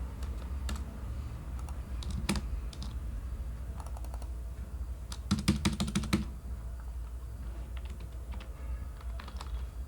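Scattered keystrokes on a computer keyboard as a Laravel command is typed, with irregular clicks and one quick dense burst of key taps midway, soft and close over a low hum, no talk.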